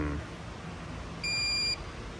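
A car diagnostic scanner connected to a Volkswagen 2.0-litre engine gives a single short electronic beep, clear and steady over a faint background hum.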